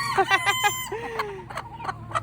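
A silver laced Wyandotte hen in a backyard mixed flock gives a run of sharp clucks and a drawn-out call, close and fairly loud, with other chickens faintly around.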